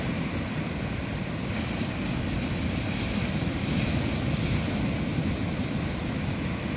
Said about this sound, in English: let you enjoy the beautiful sound of the water